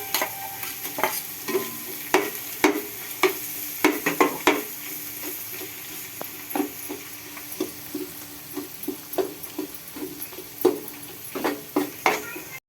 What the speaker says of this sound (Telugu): తర్వాత ఒక 2 స్పూన్లు వెన్న వేస్తున్నాను.